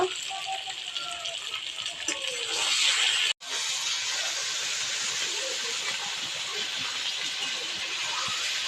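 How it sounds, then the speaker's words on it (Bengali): Water poured into frying meat in a pan gives a loud, sustained close hiss and spatter that briefly cuts out, then continues steadily. "এবার আমি জলটা দিয়ে দেব"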